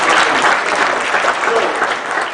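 An audience claps together in a dense, sustained burst of applause that fills the room and tapers only slightly at the end.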